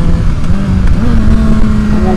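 A 2012 BMW S1000RR sport motorcycle engine running loud and close, a steady droning note that climbs slightly in pitch partway through.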